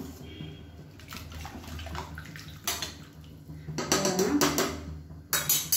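About a litre of water is poured into a cooking pot for a quick Tamil lunch, making a close, steady gushing and splashing that swells into louder bursts toward the end.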